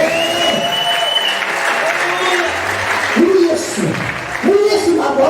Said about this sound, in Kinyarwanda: kubera Imana amashyi cyane.